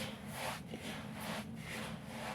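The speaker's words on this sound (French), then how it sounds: "Frotte bien entre les mains" Hands rub semolina mixed with fat and salt for date-and-honey makroud dough, making a steady, close, gritty rasping that swells and fades in a few strokes.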